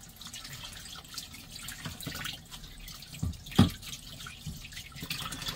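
Faint running tap water splashing and dripping as a cooking pot lid is rinsed in a small van kitchen sink, with a brief louder splash near the middle and no talking.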